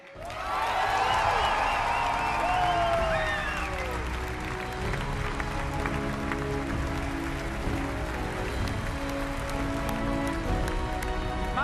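A large crowd applauds and cheers at the Bethesda E3 game conference, with loud whoops at first that settle into sustained, dense clapping from a big audience.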